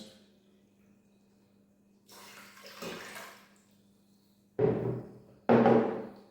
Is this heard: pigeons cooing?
no